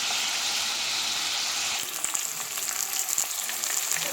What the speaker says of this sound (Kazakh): Ет қуырылып жатыр